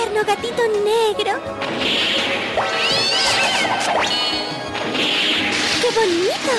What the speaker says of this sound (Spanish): ¡Tierno gatito negro!